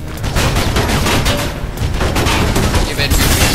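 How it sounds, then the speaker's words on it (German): Gunfire in the first-person video game Mirror's Edge, a dense continuous fusillade of rapid shots and booms, loud and close throughout. "Hier werden wir geschossen."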